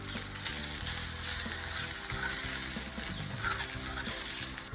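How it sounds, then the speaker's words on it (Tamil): Spices and pepper powder sauté in a V10 grill pan for mutton cutlet filling, giving a steady close sizzle and crackle of frying with occasional stirring scrapes, no voices. "இந்த மசாலா வாசனை போகிற வரை நல்லா வதக்கி விட்டுட்டு"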